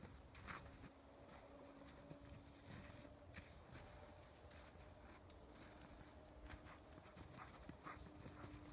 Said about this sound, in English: I'll send them and stop them en route with a whistle.